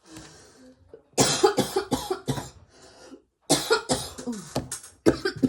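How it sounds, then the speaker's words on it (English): A series of close, harsh coughs in several bursts, with brief pauses between fits, loud and alone. "I'm going to cough"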